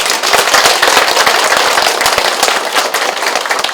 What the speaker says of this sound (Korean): 큰 박수로 감사함을 전해주십시오